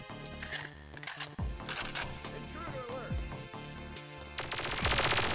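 Gunfire in the Perfect Dark Remaster video game: a few sharp shots punctuate a busy mix of game music and effects, with a dense burst of noise near the end.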